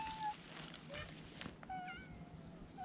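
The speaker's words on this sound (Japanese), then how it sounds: "にゃーって 言った。" A cat meowing outdoors on Mount Ikoma, several short, thin meows spread across the moment, fairly faint against steady background hiss, with a few light knocks and little talk.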